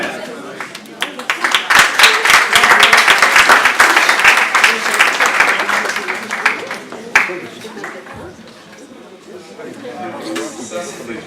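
Audience applause at a Bible study talk, swelling into dense clapping that fades after several seconds, with voices over the tail.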